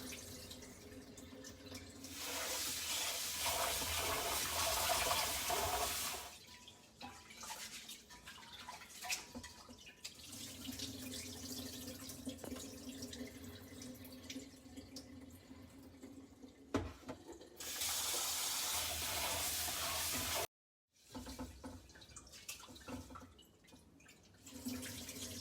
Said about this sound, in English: making sure that all the extra starch and stuff runs out and that the water is clear